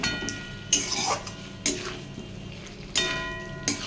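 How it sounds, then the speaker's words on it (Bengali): Fried potatoes and capsicum being stirred in a cooking pan, a few distinct scraping clatters of a spoon against the pan spaced about a second apart over a low background hiss, no talking. "এবার ভেজে রাখা আলুগুলো অ্যাড করছি। ক্যাপসিকাম অ্যাড করে আমি একটু নাড়িয়ে নেব।"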